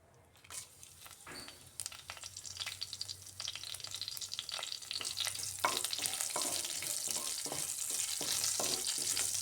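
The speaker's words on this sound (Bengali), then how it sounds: "দুই চামচের মতো রিফাইন্ড অয়েল দিয়ে ফোড়নে দিচ্ছি আমি এখানে জিরে আর শুকনা লঙ্কা" Cumin seeds and dried red chilies sizzle and crackle in about two spoons of hot refined oil, a steady close frying hiss with scattered pops and stirring scrapes throughout.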